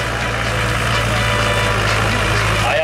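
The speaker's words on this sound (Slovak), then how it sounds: "Je to klasický motor do štvorkolky," Small 110 cc quad bike engine fitted in a homemade replica tractor, running steadily with a low droning hum throughout, fairly loud and close, with crowd chatter and a commentator's voice over it at an outdoor tractor show.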